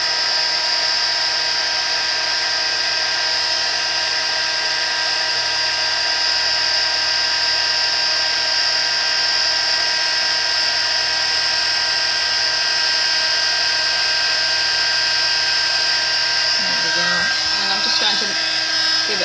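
A heat gun blows a steady, loud whine and whoosh throughout while heat embossing powder on the front of a handmade card, with a faint rustle near the end.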